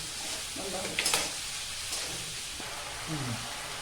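Chopped tomatoes sauté in a pan over moderate heat, a gentle continuous sizzle with a brief metallic clink and light stirring, alongside faint murmuring voices.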